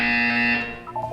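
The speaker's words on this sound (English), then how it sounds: "You will hear a buzzer" A loud electronic buzzer from the Portal 2 video game blares for about half a second, then cuts off and leaves a brief fading tonal tail.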